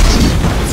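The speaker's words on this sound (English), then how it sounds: "After a quick drive-by, Mizo crashes into a fiery explosion." A fiery car crash explosion in the video game Jak X: Combat Racing gives a loud, short, booming blast filling the whole moment.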